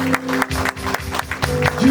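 Congregation at a wake-keeping clapping in a fast, even rhythm over sustained music and singing, the claps close and punchy throughout.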